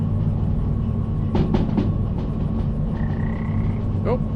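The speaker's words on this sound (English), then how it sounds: "Oh, here's some frogs." Frogs croak over the steady rolling rumble of a train in the railway simulator Derail Valley, a short cluster of croaks followed by a rising chirp and another croak near the end.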